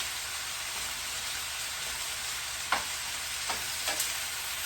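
Food frying in a hot pan with coconut oil gives a steady, even hiss, broken by three brief scrapes as it gets a light stir, close and fairly quiet.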